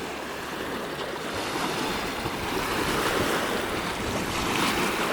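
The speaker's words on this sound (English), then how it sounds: "Wow, there's a lot of waves." Lake waves breaking and washing onto the shore at Grand Canyon West, a loud, continuous rushing surge with wind buffeting the microphone, swelling slightly toward the end, with no voices.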